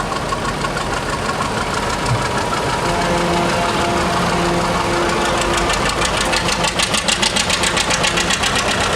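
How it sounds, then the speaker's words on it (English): A Minneapolis tractor runs in a small-town centennial parade, its engine loud and close with a steady chugging idle that turns into a sharp, rapid knocking pulse toward the end. "Minneapolis tractor that his dad purchased."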